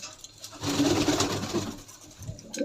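Pigeons coo steadily at close range, a soft low murmuring that swells through the middle and trails off, with no talk over it.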